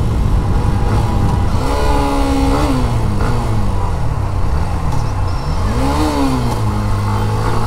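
A Hero Xtreme 125 motorcycle riding along with a suspected stalling fault, steady close engine drone whose pitch rises and falls through several gear shifts, no voices.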